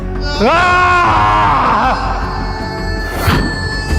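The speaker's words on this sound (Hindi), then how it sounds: "उसके दिल से एक जोर की चीख निकली" A loud, drawn-out human scream rises sharply and wavers before fading, close and intense, followed by a brief harsh burst near the end.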